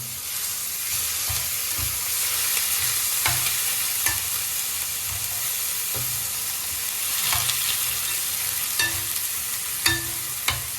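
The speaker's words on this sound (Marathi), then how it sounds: "कोथिंबीर कोकम आता चांगलं परतवून घ्यायचं" Crab masala with coriander and kokum sautéed in a pan, giving a continuous close sizzle and hiss with occasional light scrapes and clinks from stirring, and no voices.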